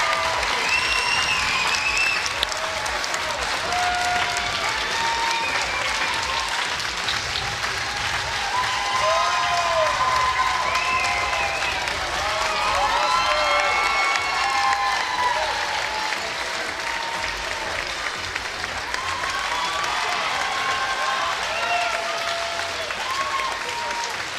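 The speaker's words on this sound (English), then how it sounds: "And just hearing the noise we have in the crowd at the end of this, it sounds like we're just beginning." Large crowd at the CrossFit Open 25.1 live announcement cheering and clapping continuously for over twenty seconds, loud and sustained, with whoops and shouts over steady applause.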